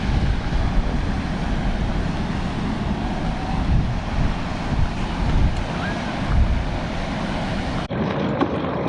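Surf rolls onto a Baltic Sea beach in strong wind, a steady loud rush of breaking waves with heavy low wind buffeting on the microphone and a brief dropout near the end.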